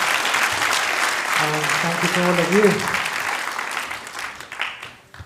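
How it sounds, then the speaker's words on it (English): An audience at a Gita Jayanti gathering applauds after chanting three chapters of the Bhagavad Gita, with loud, sustained clapping. Someone speaks over it and a brief tonal voice rises in the middle before the applause thins out and fades. "I think we should give them a round of applause."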